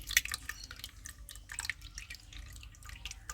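Dissolved tamarind water is strained for a village-style fish kolambu, giving soft, close dripping and trickling that continues quietly throughout.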